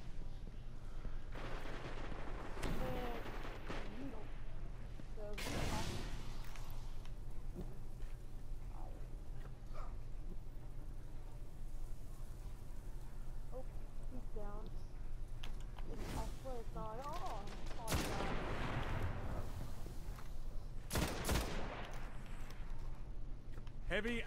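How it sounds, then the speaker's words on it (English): Gunfire in the video game Destiny, scattered sharp shots and short bursts that punch through ongoing game sounds while a person talks over them. "I understand they're shooting at us."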